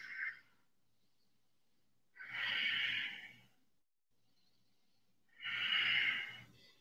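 Two long, heavy exhalations sound close and clear in a quiet room during a yoga side plank in a power yoga class, each breath separated by a few seconds of near silence.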